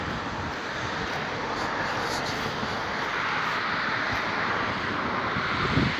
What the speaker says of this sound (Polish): helikopter tu ląduje